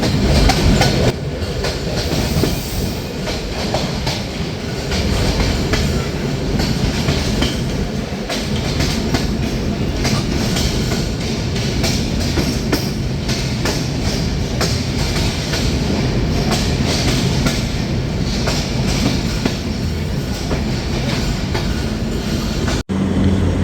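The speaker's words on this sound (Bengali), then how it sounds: "পঞ্চাশ মিনিট লেটে ট্রেনটি প্রবেশ করছে চাটমহল রেলওয়ে স্টেশনে" An express train rumbles and clatters steadily for a long stretch, wheels clacking on the rails as it rolls into Chatmohar railway station in Bangladesh, loud and close.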